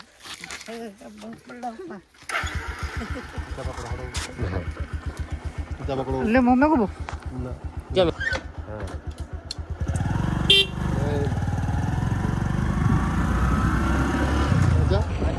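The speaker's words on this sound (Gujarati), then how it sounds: "તો ચલો બાઇક ચાલુ કરો" A motorcycle engine sputters to life and idles with a rapid putter, then revs louder as it rides off; people talk over it.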